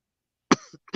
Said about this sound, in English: Sorry, I'm coughing because damn.